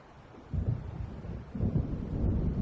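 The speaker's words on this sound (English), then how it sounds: "It seems there's a storm coming." Low rumbling thunder from an approaching storm rolls in the Alan Wake video game, two swelling waves of deep rumble with no voices.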